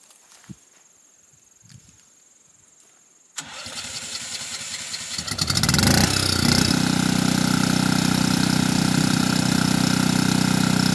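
A generator inside a soundproofing box is started after a few quiet footsteps and knocks. It catches, revs up and settles into a steady, moderately loud, muffled running hum heard from a short distance.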